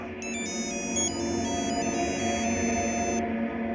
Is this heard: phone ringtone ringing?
yes